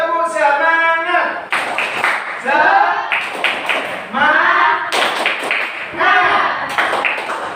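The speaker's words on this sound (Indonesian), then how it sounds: "tepuk semangat." A class of students standing up to perform the rhythmic 'tepuk semangat' spirit clap, sharp clap bursts in a patterned beat while voices chant along loudly throughout.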